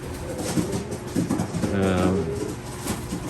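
Pigeons in a breeding loft, including pouter breeds, coo close by with a soft rolling call rising over busy loft noise.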